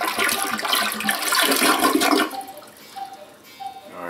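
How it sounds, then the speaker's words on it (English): Toilet flushed with its water supply shut off, a loud rushing drain for about two seconds that cuts off abruptly, leaving faint trickles and gurgles with no tank refill afterward. "now this is a flush with the water off"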